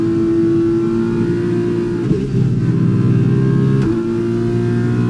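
A Formula 1 car engine in the video game F1 2021 holds a loud, steady high-pitched whine that briefly dips and recovers twice, like quick gear shifts, with no voices.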